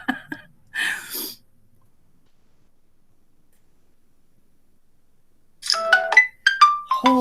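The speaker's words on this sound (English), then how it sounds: "My phone is going crazy." A mobile phone sounds off with a short alert at the start, falls silent for several seconds, then erupts into a run of bright, rapid notification tones and ringing chimes.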